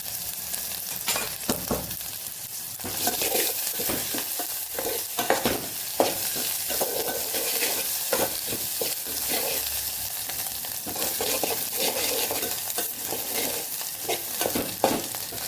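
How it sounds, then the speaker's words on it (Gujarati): Cumin seeds and curry leaves, added with green chilli, sizzle in hot oil as a tempering for kadhi. A loud, close, continuous crackling sizzle is broken by repeated stirring scrapes, with no voices. "મીઠા લીમડાના પાન પણ ઉમેરી દઈશું અને જીરું પણ ઉમેરી દઈશું"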